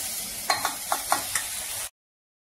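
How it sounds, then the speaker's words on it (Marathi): Chana dal cooking in sugar on a slow flame gives a close, steady bubbling sizzle with five soft spoon knocks or stirs, then cuts off abruptly to silence. "आपली डाळ शिजते साखरेमध्ये"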